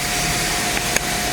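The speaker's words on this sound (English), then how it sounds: "I am finna go vacuum out my car so I can vacuum the floors" A car wash vacuum runs steadily while cleaning out a car, a constant whooshing drone with a couple of brief clicks partway through and no talking.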